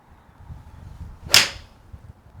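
A single sharp, crisp strike of a TaylorMade P790 iron hitting a golf ball, a quick swishing crack, somewhat muted, against a quiet outdoor background.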